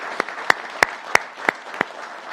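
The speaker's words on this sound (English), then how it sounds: "Can we give a round of applause again for Kiana for that story?" At a ministerial press conference, a few people clap in sharp, evenly spaced claps, about six distinct hits standing out above a thin layer of softer clapping.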